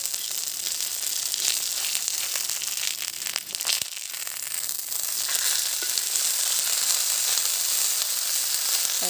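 Fish frying in sesame oil, cooked in a primitive style, gives a steady loud sizzle with dense crackling and spitting throughout, briefly dipping and then continuing alone without talk.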